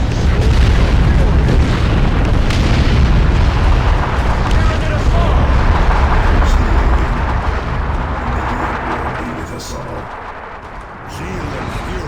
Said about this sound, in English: Thunderhawks 3 and 4, follow with bombing run, purification spread.